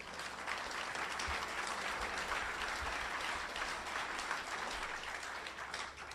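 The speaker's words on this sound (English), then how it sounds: "those applause are terrific" A lecture audience at a talk on corporate personhood and Citizens United breaks into steady, full applause, recorded fairly quietly and from a distance, with occasional low thumps under the clapping.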